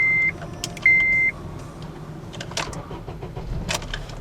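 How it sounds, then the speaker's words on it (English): A 2009 Acura RDX's 2.3-liter turbo engine idles with a low, steady hum, while two short electronic chime tones sound near the start and faint clicks follow. "what you're hearing is the only turbo engine that's offered production-wise from the Honda Acura"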